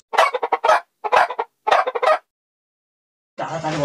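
A chicken clucks in three quick bursts of rapid, choppy calls, close and fairly loud, in a village chicken-stealing skit, followed by a pause and then a brief burst of rustling noise.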